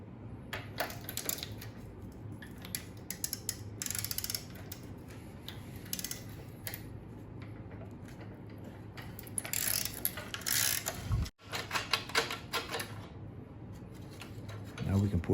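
A ratchet with a 5/8-inch (16 mm) socket loosens a bolt, making rapid close metallic clicking in repeated bursts with short pauses between strokes.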